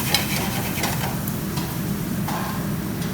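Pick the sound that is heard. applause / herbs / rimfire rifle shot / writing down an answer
herbs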